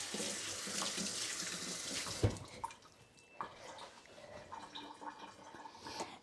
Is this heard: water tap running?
yes